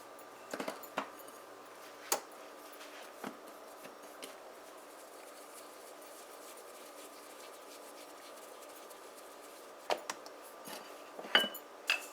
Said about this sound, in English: mom is gonna begin rolling out our